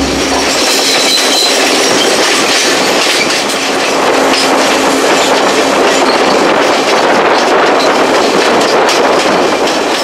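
Inside a Sri Lankan passenger train on the Nanu Oya to Ella line, a loud, continuous rumble of wheels on rails carries a rhythmic clickety-clack and occasional squeals, with no one talking.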